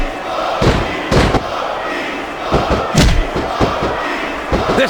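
Arena crowd noise from the wrestling video game WWE Smackdown vs RAW 2006 on PS2, a steady loud roar broken by repeated heavy thuds and slams from the ring action.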